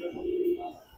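Pigeons coo at a busy Friday pigeon market in Mirpur, Dhaka, a single soft, warbling coo rising and settling over about a second, close by, with faint market background beneath.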